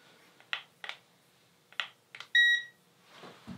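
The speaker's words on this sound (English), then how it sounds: "then you'll hear a beep indicating what your temperature is." A non-contact thermometer gives a single short electronic beep that stands out clearly amid faint clicks and rustling.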